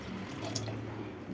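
A cupful of water is poured into avarekalu sambar in a pressure cooker, giving a faint, brief, continuous splash and trickle.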